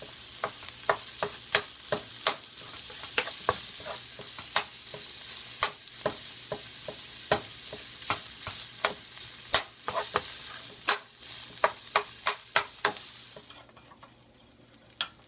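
Egg roll filling sizzles steadily in a pan on a home stove, with a bright, hissing frying sound and frequent sharp clicks and scrapes of a utensil stirring and breaking it up, until the sizzle drops away near the end.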